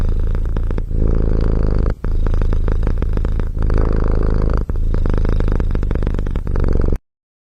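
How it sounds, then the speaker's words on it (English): A cat purring steadily and loudly close up, a continuous rumbling drone with brief breaks, alone with no talking, ending abruptly in silence. "Cute cat."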